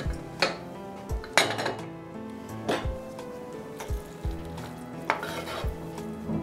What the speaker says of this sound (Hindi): प्रेशर कुकर ठंडा हो गया, अभी हम खोलेंगे।